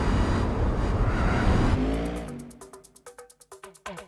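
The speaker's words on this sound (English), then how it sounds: "Joe's enjoying the engine sound" A race car in Gran Turismo 4 holds a loud, sustained engine roar that rises in pitch, then falls away into a series of quick rhythmic revving pulses, with no talking over it.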